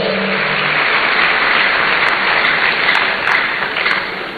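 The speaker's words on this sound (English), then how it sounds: "Let's give her a round of applause" Audience applause at a student entrepreneurship programme launch in Ghana, a dense, loud, continuous roar of clapping that holds steady throughout with no talk.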